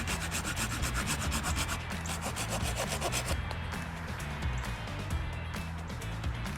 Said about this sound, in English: I'm quickly just sawing this bigger stick down into some more manageable pieces